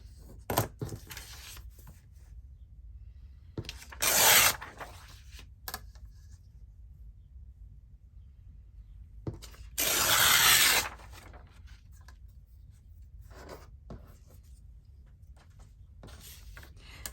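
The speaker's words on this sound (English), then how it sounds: "let's tear around this one" Paper is torn by hand around its edges while making an antique document journal. Two short, crisp ripping bursts stand out over faint rustling and handling noise.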